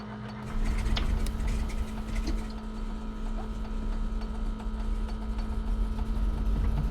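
An aircraft engine cranks over in Microsoft Flight Simulator, a steady mechanical whirring and ratcheting grind with a sustained hum, running continuously at moderate volume.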